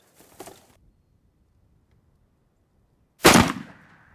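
Two sharp gunshots from shooting at a range, the first fainter and distant-sounding near the start, the second loud and close after a long quiet gap, each with a short decaying tail.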